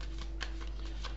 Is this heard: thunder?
no